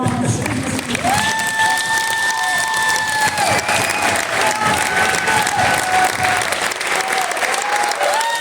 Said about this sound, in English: But I think we should all give a round of applause to Mr. McLeod.